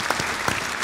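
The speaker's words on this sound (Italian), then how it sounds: "Qui facciamo un altro bel applauso, grazie." A short burst of audience applause at a New Year's show, many hands clapping together, dense and fairly loud.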